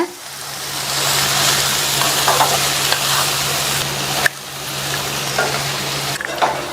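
Toasted bread pieces tossed with masala in a hot pan, a loud steady sizzle with stirring scrapes and occasional knocks of the spoon, no voices.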